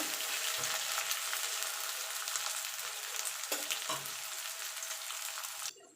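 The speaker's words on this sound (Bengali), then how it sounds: "এবার পেঁয়াজটাকে একটু লাল লাল করে ভেজে নেব" Chopped onions frying in a pan for a dry chicken dish, a steady close broadband sizzle with a few stirring scrapes, cutting off abruptly near the end.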